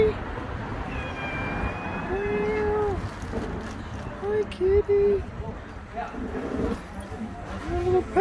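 A cat meows outdoors on a cold street beside a church in Haarlem, Netherlands, giving several short, clear meows spread over the stretch. A person talks nearby.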